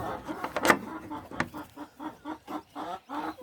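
Chickens cluck repeatedly in a small backyard coop, a steady series of short, rhythmic clucks close by after a few louder scuffling sounds at the start.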